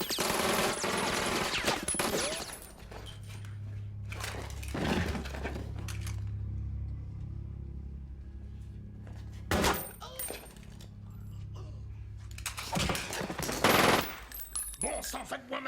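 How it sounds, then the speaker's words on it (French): Gunfire in a French action film, with bursts of rapid shots and cracking impacts up front, a quieter rumbling stretch in the middle, then renewed loud volleys near the end. "des coups de feu."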